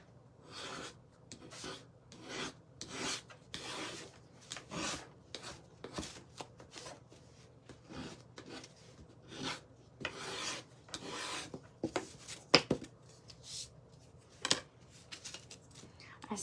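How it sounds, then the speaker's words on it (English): Repeated scraping strokes of a putty knife or paint scraper pulling paint back from the edges of wooden slats, close and uneven in rhythm, with occasional sharp clicks and some talking in between. "so just kind of scrape back some of the paint"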